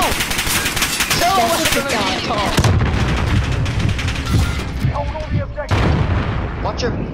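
Rapid, loud gunfire and booming blasts in Call of Duty: Modern Warfare, with bursts of automatic fire coming one after another while voices talk over the shooting.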